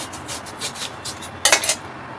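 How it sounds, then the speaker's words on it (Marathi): Knife slicing an onion into thin rounds, a series of soft rhythmic cuts followed by a sharper, louder scrape near the end, close up with no talking. "चॉपिंग करूया कांदा कांद्याचे असे स्लाइस करायचे आहेत असे पातळ गोल आकाराचे करायचे आहेत"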